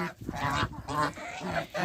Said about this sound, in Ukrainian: Оці качури нічогенькі, такі здоровенькі.